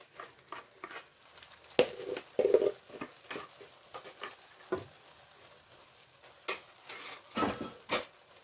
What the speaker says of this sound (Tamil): இப்ப நான் அவித்து வைத்திருக்கிற இந்த பாஸ்மதி ரைஸை இதோட நான் மிக்ஸ் பண்றேன்.